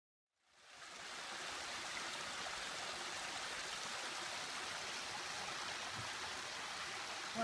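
Steady rushing and splashing of a small stream tumbling over little falls, constant and close, with no voices.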